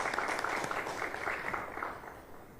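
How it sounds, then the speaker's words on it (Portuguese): An audience claps at the opening of a first international congress on Portuguese language and migration at the Biblioteca Mário de Andrade in São Paulo, a moderate burst of many hands that thins out over a couple of seconds. "Primeiro congresso, gente, merece uma salva de palmas."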